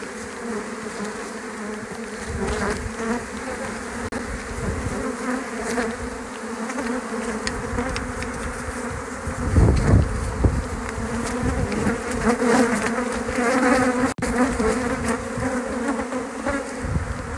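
Honeybees from a swarm out of a snap-format hive buzz in a dense, steady drone while being brushed off with a small hand brush, with a louder surge of buzzing partway through and no talking.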